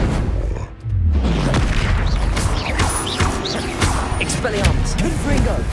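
Confringo fire-spell blasts in Hogwarts Legacy come as loud booming crashes with a dense swirl of magical whooshes and debris, joined by a brief dip and then continuous heavy impact noise.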